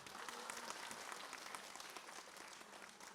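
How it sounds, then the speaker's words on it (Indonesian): Studio audience applause on an Islamic television talk show, a dense, continuous wash of clapping from many hands, fairly soft and distant throughout. "Tepuk tangan dong."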